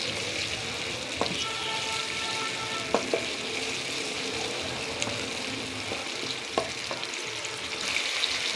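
Ginger garlic paste sizzles with browned onions in a pan as a continuous crackling hiss, broken by occasional scraping stirs and light clinks of a spoon against the pan.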